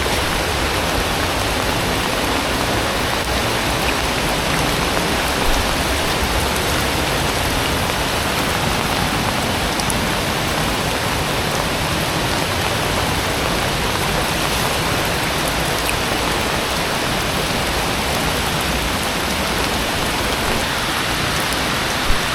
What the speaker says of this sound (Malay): dah hujan lebat